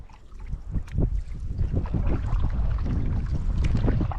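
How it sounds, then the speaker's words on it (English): Wind gusts across open water on a canoe camping trip, a steady buffeting rush with low rumbles against the microphone and faint splashes beneath. "Wind's in her face."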